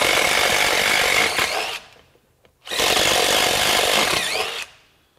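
A drill turning a Spyder Mach Blue Stinger steel bit through wood whines loudly in two bursts, about two seconds each, separated by a brief near-silent pause.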